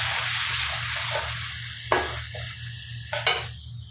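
Chopped onions sizzle steadily in hot oil in a karahi for a Pakistani karahi chicken dish, a continuous close frying hiss broken by a few scraping stirs and clinks, with no voices.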